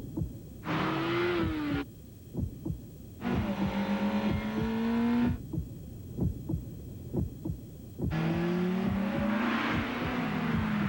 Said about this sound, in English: The all-new 200 horsepower Acura RSX.